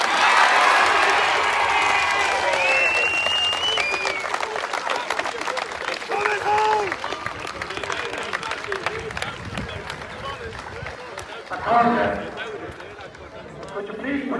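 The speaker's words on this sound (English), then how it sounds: "I'll hand you over now with a big round of applause to the winning captain" Crowd applause and cheering for the winning captain after a senior hurling county final between Ratoath and Trim, with clapping and shouts spread through the clip and voices talking over it, swelling briefly near the end.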